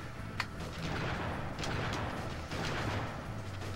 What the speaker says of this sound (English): You just shot your own guy.